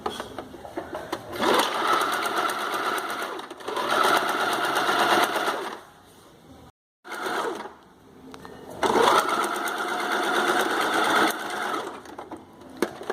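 A home sewing machine stitches a padded bikini in several loud, steady bursts, with a short pause near the middle where the needle stops before the motor starts up again.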